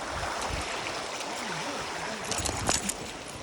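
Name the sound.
flowing mountain stream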